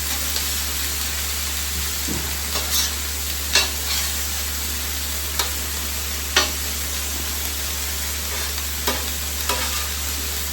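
Thin chicken pieces for fajitas sizzle steadily on a hot griddle, a loud continuous frying hiss broken by occasional scrapes and taps of a spatula, with no talking.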